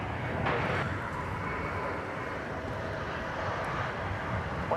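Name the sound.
British Airways Airbus A380 airliner passing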